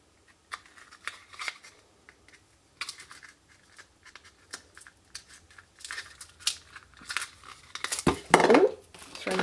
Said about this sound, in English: find a pair of scissors and open this up